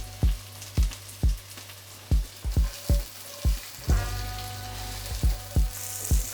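Butter frying in a pan for sausage pasta, a steady close sizzle punctuated by about a dozen rhythmic thudding stirs or taps of a utensil against the pan, with no talking.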